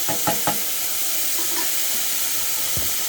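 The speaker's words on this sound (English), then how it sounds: "So I just give that the occasional stir" Chicken and mushroom pie filling sizzles steadily in a frying pan, with a few scraping stirs near the start and another toward the end, close and continuous with no talking.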